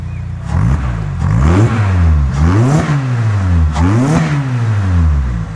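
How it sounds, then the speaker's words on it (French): A BMW M5 F90 sports car engine revs hard several times in quick succession, each rising wail dropping back before the next blip, loud and close. "Allez mets-nous quelques bons coups de gaz"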